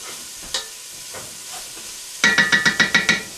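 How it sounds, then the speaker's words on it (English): Garlic stirred in extra virgin olive oil in a pan: a few soft scrapes, then a burst of six or seven quick, evenly spaced stirring strokes over a bright, close sizzle, with no talking. "So I'm going to give this a stir."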